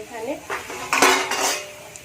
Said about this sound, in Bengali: এখানে আমি পেঁয়াজটা নাড়াচাড়া করে নেবো, পেঁয়াজটা হালকা হালকা ভেজে নেবো